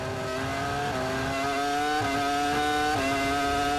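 Formula 1 race cars from the 2003 season screaming past at high revs, a continuous shrill engine howl with distinct gear upshifts roughly every second, loud and close.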